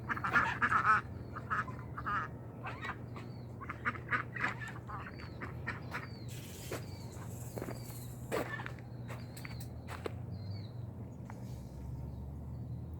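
Ducks quack repeatedly at a moderate distance, scattered calls over a low steady hum, with a burst of louder quacking at the start.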